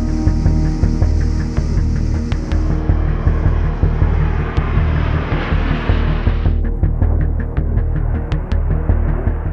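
A-10 Thunderbolt military aircraft flying, a loud continuous engine roar with a throbbing low rumble and a rising, shifting whine as it passes.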